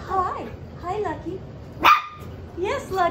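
A nine-week-old puppy gives several short, high yipping barks at close range, with a voice talking between them indoors.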